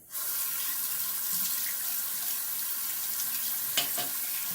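Tap water runs in a steady, close stream into a sink to rinse a safety razor after a wet shave, unbroken for several seconds with a brief clink near the end.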